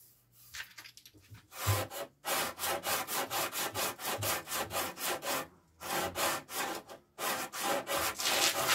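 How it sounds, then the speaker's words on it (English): Rhythmic hand sanding on a wooden headboard, quick back-and-forth rasping strokes close by, pausing briefly a couple of times before resuming. "So I've been working on sanding the headboard"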